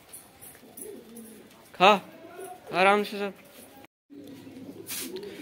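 Pigeons kept by a bird keeper cooing nearby in a few distinct throaty bursts, with someone speaking briefly and calmly to them in between.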